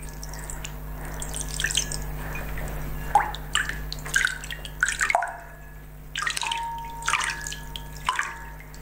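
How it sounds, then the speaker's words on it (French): Water poured over hands during ritual hand washing at a Passover seder, heard as intermittent splashing and dripping bursts that start and stop several times, close and clear with no talking. "on verse nous-mêmes l'eau sur les mains"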